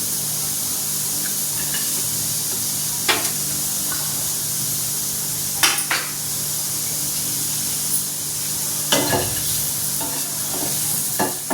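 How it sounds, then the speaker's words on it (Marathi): Chopped onion and coconut dry-roasting in a pan for masala vangi, a steady soft sizzle and hiss with occasional scraping stirs and clinks, close and continuous without any talk. "घेते मी आता कांदा भाजून।"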